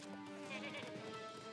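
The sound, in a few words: goat bleating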